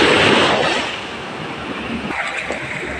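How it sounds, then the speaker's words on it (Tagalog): A wave surges and washes in close by, then settles into a rushing, windy churn of surf with no voices. "Medyo malaki pa po yung alon"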